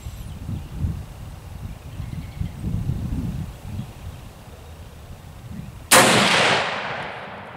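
A single sharp rifle shot at an outdoor shooting range, loud and close, cracking out near the end after several seconds of quiet wind and low rumble, with a long echoing decay; the firearms are a DPMS Oracle AR15 and a Remington 700 40X in .25-06.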